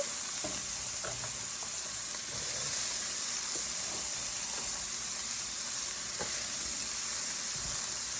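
Onions and peppers sizzle in a single pan for Cajun chicken and rice, giving a steady close hiss with a few faint scrapes and taps, and no voices.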